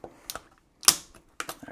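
Plastic blister packaging being ripped off a Master Lock M530XQLH Magnum solid steel keyed-alike padlock, heard as a few sharp, close crackling tears and snaps with short gaps between them.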